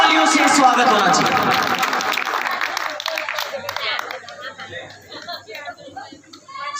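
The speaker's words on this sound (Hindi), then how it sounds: "एक बार जोरदार तालियों से स्वागत होना चाहिए सर का" Loud audience applause welcoming a guest at a memorial gathering, strongest at first and then thinning out, with chatter and light laughter as the clapping fades.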